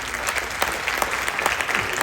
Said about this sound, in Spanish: Le damos un aplauso, doctor.